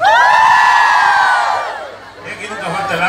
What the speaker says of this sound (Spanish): Queremos escuchar el grito de las mujeres que sí saben lavar.